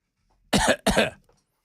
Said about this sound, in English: I had a cough there